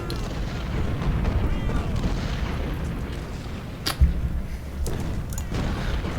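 Civil War artillery in Ultimate General: Civil War, a dense rumbling battle din with a sharp cannon boom near the middle and a further report after, loud and continuous, no speech.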